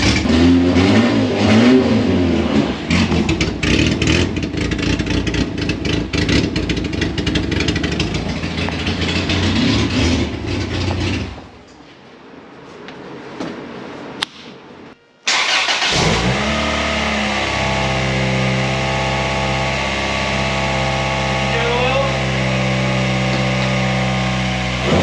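A loud Honda Civic engine roars and revs hard, drops away briefly, then catches again and settles into a steady, throaty running rumble close by.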